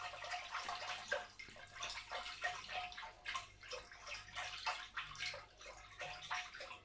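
Lukewarm water runs steadily from a tap while doughnut dough is being prepared. It makes a close, continuous splashing rush with a rhythmic pulsing and no voices.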